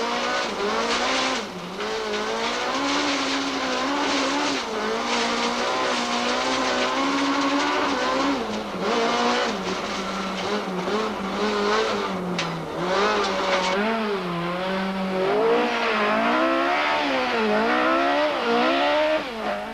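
A VW Golf rally car at full throttle on tight sugarcane stages, engine howling and rising and falling through gear changes as it's thrown through bends, loud and continuous with occasional tyre scrabble.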